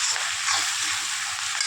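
Onions frying in a pan give a steady, bright sizzle that holds close and even throughout, with faint stirring scrapes underneath.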